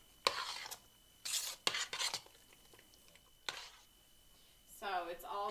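Shredded meat being stirred into thick wheat porridge for Persian haleem, heard as several short scraping, rasping bursts of a spoon against the pot, with quiet gaps between them and a voice speaking briefly near the end.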